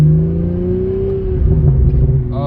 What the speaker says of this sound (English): With the twin scroll turbo inline 6-cylinder, it just delivers no matter what RPM you are at,